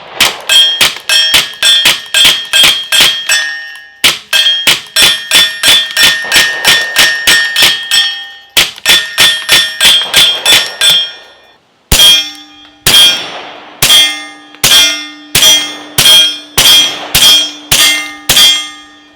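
Rapid strings of suppressed rifle shots through an Optimus Micro silencer, a full-auto-rated can, each a sharp metallic crack with short ring, fired in four quick bursts of about eight to ten shots, loud and close with no talking.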